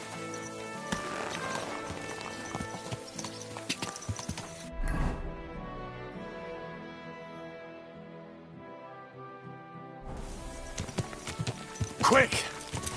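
Horse hooves clip-clop in the medieval video game Kingdom Come, with a steady gait under music and voices that stop midway before resuming.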